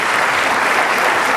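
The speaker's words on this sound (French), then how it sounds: "tous, applaudissez-vous." Large audience of about 7000 people applauding in a concert hall at a festive anniversary recital, a dense, steady wash of clapping that stays loud and even throughout with no talk over it.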